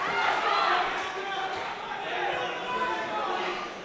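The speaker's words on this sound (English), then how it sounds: "Crowd getting excited" Excited crowd at a professional boxing match between Mark Deluca and Salim Larbi, a steady roar of voices and cheering that swells and eases, with a commentator talking over the arena noise.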